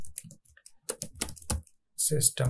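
Java code being typed on a computer keyboard, with irregular clusters of key clicks and taps mixed in with someone talking over them.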